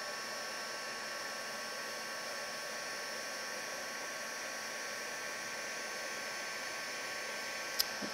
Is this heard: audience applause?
no